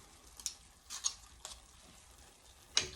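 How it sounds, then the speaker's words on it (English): Thai pork basil stir-fry with kaffir lime leaves being stirred in a pan, a few faint scraping strokes spaced irregularly over a quiet low sizzle, no voices. "Give it a stir."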